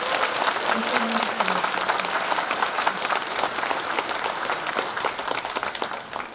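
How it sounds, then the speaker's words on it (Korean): Audience applause at a ceremony launching the Hamyang wild ginseng expo: a dense, steady round of clapping from a standing crowd that stays loud and continuous throughout. "큰 박수 한번 주시고"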